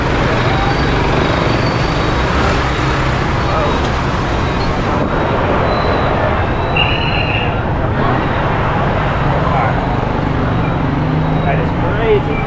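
Heavy street traffic in Saigon, Vietnam, roars continuously and loudly with engine noise, while a voice talks over the din.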